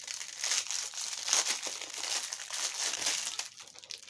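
Slime container packaging is opened with a few seconds of close, busy plastic crinkling and rustling. The sound is steady, with small bursts, and there is no speech.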